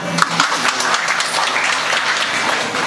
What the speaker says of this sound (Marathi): घ्या टाळ्या वाजवा